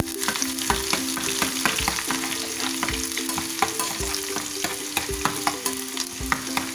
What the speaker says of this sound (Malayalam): കടുക് പൊട്ടി, ഇതിൽ ഉള്ളി ഇട്ട് കൊടുത്തിട്ടുണ്ട്.